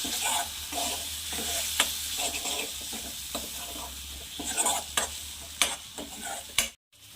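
Spoon stirring masala with a splash of water in a pan for a ridge gourd curry, repeated scraping strokes over a soft sizzle, close and steady, ending in a brief cutoff.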